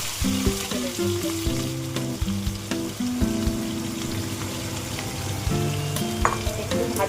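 Continuous crackling sizzle of small potatoes frying in mustard oil, heard up close with scattered stirring knocks and scrapes against the pan, no talking.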